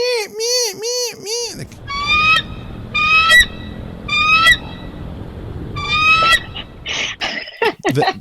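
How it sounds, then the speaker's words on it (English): Bald eagles at a nest in Big Bear Valley give high, thin, chattering calls in several loud bursts, each a run of sharp repeated notes separated by short pauses. "I've actually got a chance to hear different sounds that eagles make"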